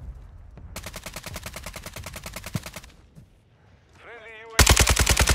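Automatic gunfire rattles in Call of Duty battle royale on the Al-Mazrah map, with a long rapid burst, a warbling electronic effect, then another loud close volley.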